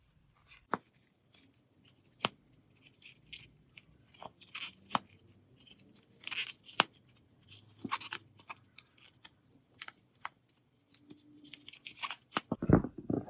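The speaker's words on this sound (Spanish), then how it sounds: "Cortamos la hebra" Scissors snip crochet yarn for a handmade crocheted bag, giving scattered sharp clicks and crisp cuts close by amid soft handling noises, with a louder cluster of cuts at the end and no talking.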